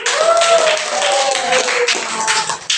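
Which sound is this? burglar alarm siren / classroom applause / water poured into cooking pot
classroom applause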